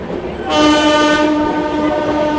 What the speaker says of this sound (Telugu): మన వాడు మాత్రం హారం కొట్టుకుంటూ వెళ్తూనే ఉన్నాడు